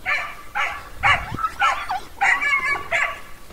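A dog barks close by in a run of about six sharp barks, evenly spaced with short yips between them, loud and alone.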